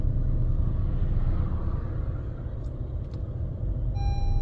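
Steady, dense traffic rumble from a jam of cars and trucks on a Banda Aceh street near the Batoh terminal, a continuous low drone with no pauses and no voices.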